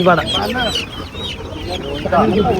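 Native country hens at the Chandapura poultry and livestock market cluck busily and near at hand in a continuous jumble of overlapping calls, with people talking in the background.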